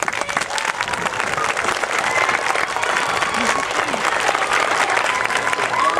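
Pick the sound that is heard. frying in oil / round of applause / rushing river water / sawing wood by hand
round of applause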